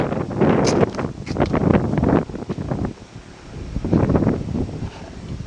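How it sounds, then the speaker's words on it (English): Gusty outdoor wind buffets the microphone in loud, low rumbling surges that rise and fall, easing briefly midway before picking up again, with no other clear sounds over it. "It's a little bit windy, so you're just going to have to put up with the wind noise."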